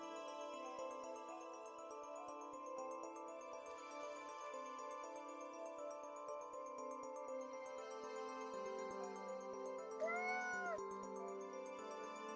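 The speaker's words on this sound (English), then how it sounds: "It's just a meow. It's a cat game." A cat video game plays a continuous tonal, music-like soundtrack, and a short synthesized cat meow pops out near the end, close and clear, with no speech.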